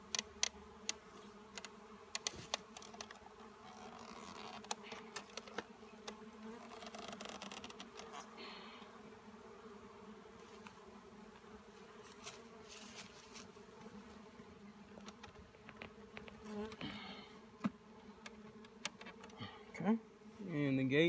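Steady buzzing of many honey bees close by at a hive entrance fitted with a pollen trap, with soft ticks and taps scattered throughout, humming continuously without a break.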